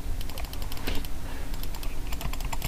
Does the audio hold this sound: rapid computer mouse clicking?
yes